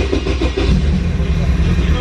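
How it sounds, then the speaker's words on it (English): A big-turbo widebody car fires up after a valve cover job, its engine catching into a loud, steady low rumble that runs throughout with no break. "first startup after valve cover job"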